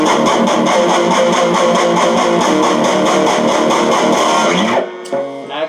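Distorted electric guitar plays a driving power-chord riff, steady and loud with chugging rhythm, cutting off near the end to a brief quiet tail.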